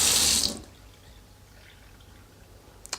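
Water gushes loudly from a tap for about half a second and then stops abruptly, leaving quiet room tone with a faint click near the end.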